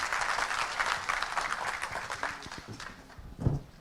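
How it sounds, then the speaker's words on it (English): An audience at a business leadership event applauds a presenter, a moderate, fairly distant patter of clapping that thins out toward the end, with a brief knock near the close. "A round of applause for him for presenting for all of us."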